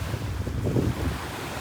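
Sea waves wash onto a windy, empty beach with a steady roar, heavily buffeted by wind on the microphone, and no voices.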